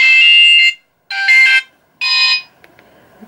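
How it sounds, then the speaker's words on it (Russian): A bright, electronic alarm-clock melody from an Alcatel 2053D mobile phone plays in three short bursts separated by brief pauses, loud and clear with no talking. "мелодия будильника сразу понятна."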